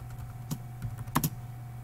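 Keystrokes on a computer keyboard typing a command into the Windows Run box, a few quick separate taps with a cluster of clicks near the middle, close and fairly quiet over a steady low hum.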